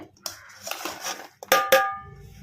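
Onion pieces dropped into a stone mortar for a village-style brinjal and onion fry: a few sharp, hard clinks and knocks, the last two loudest and ringing, with quiet gaps between.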